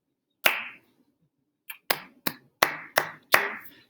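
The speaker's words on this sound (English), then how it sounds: "Maybe you just want to focus on snaps and claps." Body percussion in a grade-school music lesson: one sharp clap, a pause, then six quick claps and snaps in an uneven rhythm, close and dry against silence.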